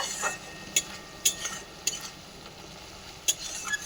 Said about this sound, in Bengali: এভাবে ভালো করে কষিয়ে নিলাম মশলাটাকে